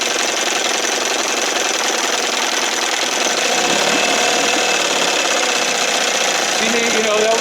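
A 1968 Evinrude Fisherman 6 hp outboard runs cold after choking, a loud, busy mechanical clatter with a steady rapid beat and rising pitch toward the end as it revs.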